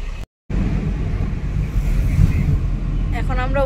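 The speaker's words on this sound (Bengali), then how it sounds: "বিশেষ করে ছেলেটার জন্যই আজকে গাড়ি নিয়ে আমরা যাচ্ছি।" A car drives through Kolkata city traffic, climbing onto a flyover. A steady low road and engine rumble runs throughout, with a brief dropout near the start and a hint of a voice at the end.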